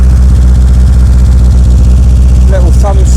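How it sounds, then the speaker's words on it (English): A petrol engine held at a fast idle runs steadily and loud close by, its low, even throb unbroken throughout, with a couple of brief higher whistle-like tones near the end. "I've got the engine fast idling."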